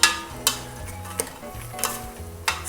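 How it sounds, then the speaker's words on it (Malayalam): Tomatoes and green chillies sauté in a pan, a soft steady sizzle broken by five sharp spoon scrapes and knocks at regular intervals, close and clear with no talking. "എന്നിട്ട് വീണ്ടും വഴറ്റി കൊടുക്കാം."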